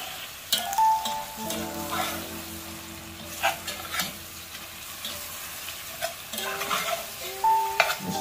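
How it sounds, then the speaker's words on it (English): Green beans stir-fried with garlic in a hot pan give a steady sizzle, broken by repeated scraping and tossing stirs, with a couple of brief high tones in the background. "you can throw in some of your green beans now. And just give that a good mix."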